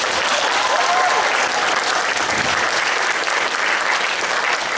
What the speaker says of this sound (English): a big round of applause for my assistant, Haley.